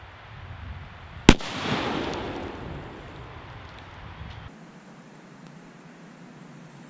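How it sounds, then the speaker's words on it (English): A single sharp, loud bang from an M80 firecracker exploding inside a pumpkin, followed by a brief burst of scattering debris and fading noise, then a quiet outdoor background. "First up is the M80 stuffed inside one."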